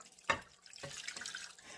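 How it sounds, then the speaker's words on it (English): Beef broth poured into a roasting pan beside a leg of lamb, a sharp splash followed by a brief trickle and liquid spattering, close and fairly quiet. "our beef broth, we're going to go in here and pour it to the side."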